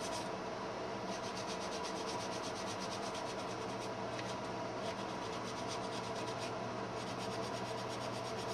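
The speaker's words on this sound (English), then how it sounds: "I really like using this Evercoat because it sands fine." Evercoat body filler being sanded on the side rails of a 1959 Chevy drag truck chassis, a steady close rasping scrub that runs on without a break.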